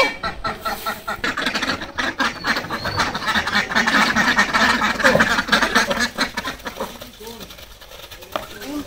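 A flock of village ducks released in the morning quacks in busy, overlapping bursts close by, while a person talks over the noise.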